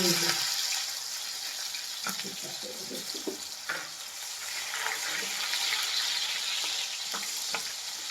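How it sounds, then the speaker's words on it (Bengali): Chopped onions hit hot oil left over from frying eggplant, setting off a loud, steady sizzle close by, with a few scraping stirs and clinks through it. "সেই পেঁয়াজ কুচিগুলো ওই বেগুন ভাজার তেলেই আমি দিয়ে দেবো"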